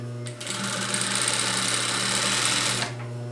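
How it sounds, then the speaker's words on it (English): A sewing machine runs in one steady, continuous burst of stitching through the layered fabric of a reusable grocery tote bag, close and fairly loud, starting and stopping cleanly. "Make sure you keep your layers clear from your sewing machine."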